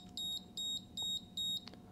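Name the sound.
smoke detector beeping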